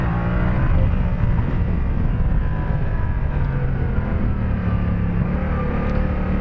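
A Yamaha MT-07 Tracer 700 motorcycle engine runs roughly, a loud steady low rumble with a constant drone and no pauses or speech.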